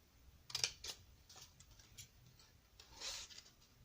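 Scissors snip a narrow strip of paper, about half a centimetre wide, during card making, giving a few faint, close, crisp cuts separated by quiet pauses.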